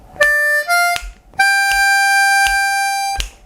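Blues harmonica lick of three notes, 4 draw, 5 draw and 6 blow, played as clear sustained reedy tones, two short notes and then one long held note, alone and close.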